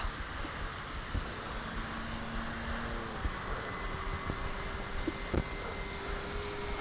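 Tower Hobbies DHC-3 Beaver RC plane with its engine droning steadily and evenly throughout as it powers up for takeoff outdoors, a continuous motor whine with slight pitch shifts.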